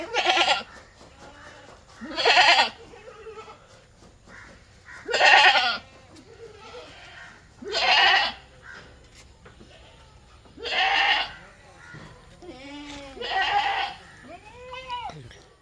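Crossbreed goat kids, two young males, bleating repeatedly in loud, close, drawn-out calls spaced a couple of seconds apart, with quieter bleats between them.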